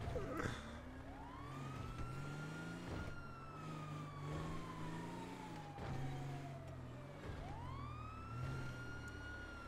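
A police car siren wails in a GTA 5 chase, a slow rising and falling tone that sweeps up sharply twice, fairly faint over a low engine rumble.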